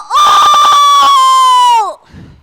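A human voice imitates a rooster crowing at sunrise during a children's storytelling performance: one loud, sustained, close cock-a-doodle-doo with choppy opening syllables and a long held tone that falls away at the end.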